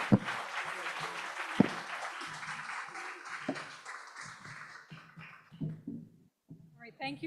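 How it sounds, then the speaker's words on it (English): A panel discussion audience at a nonprofit event on populism and economic policy claps for the panelists, with a moderate wash of applause fading over several seconds, punctuated by a few sharper claps. "give them a round of applause"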